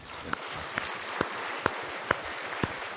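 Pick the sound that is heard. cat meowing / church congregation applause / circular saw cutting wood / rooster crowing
church congregation applause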